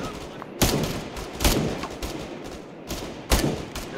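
Gunfire in the military game Arma 3 Antistasi, with three sharp, loud shots spaced out over a few seconds, each trailing into a noisy rumble, and no talk over it.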